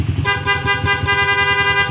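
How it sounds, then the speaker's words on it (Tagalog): A loud, sustained electronic aftermarket motorcycle horn blares continuously, steady and harmonic-rich over the motorcycle engine idling close by. "pag gusto niya naman ng PIA loud horn, pindot siya sa letter A"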